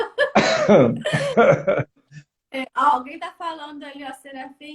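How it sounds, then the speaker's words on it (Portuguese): A cough or two from a woman hosting a Portuguese-language live stream on real estate entrepreneurship and marketing, mixed into her ongoing talk and close to the microphone. "desculpe a tosse"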